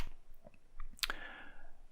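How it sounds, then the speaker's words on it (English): A few keys pressed on a Vic-20 computer keyboard to type a command: soft, sparse clicks followed by a sharper, louder keystroke, close and alone with no talk. "let's just type run and see if this thing still runs"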